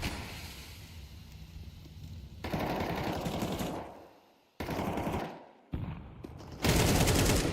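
Counter-Strike 2 rifle fire rattles in several loud automatic bursts separated by short pauses, close and sharp, with no talk over it.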